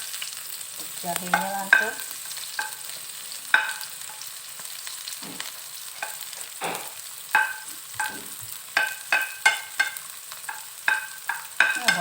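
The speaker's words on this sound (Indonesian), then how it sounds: "Kita tumis bawang merah." Shallots and ginger sauté in a hot pan with a faint steady sizzle while a utensil stirs and scrapes in quick irregular strokes, and a voice speaks briefly at the start.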